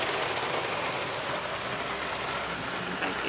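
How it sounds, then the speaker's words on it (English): Steady broadband hiss of rain falling on a car, heard from inside a Jeep Trackhawk, continuous and fairly even throughout with no talk. "it starts raining"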